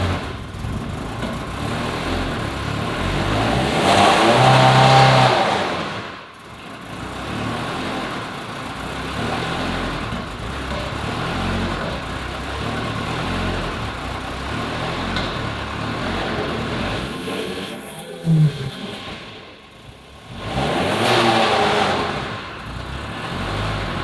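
A long-dormant Ferrari engine that hasn't run in two years starts roughly, apparently misfiring and not on all cylinders, with loud, uneven revving surges near the start and end and a rough running drone between.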